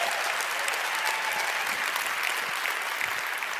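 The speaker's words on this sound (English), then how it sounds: "So let's give them a big round of applause" A conference audience breaks into loud, sustained applause, a dense wash of clapping that holds steady for a few seconds.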